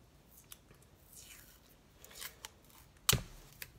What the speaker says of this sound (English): I'm going to use some masking tape